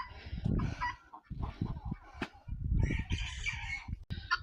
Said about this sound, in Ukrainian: біля коїк, біля корита цесарки і горобці.